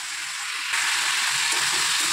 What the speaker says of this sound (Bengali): নুন দিয়ে ভাজা ভাজা করছি।